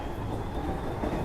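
A Japanese train runs on the rails between Kusatsu and Kibukawa in Shiga, heard from inside the front car as a steady low rumble with soft wheel noise and no voices.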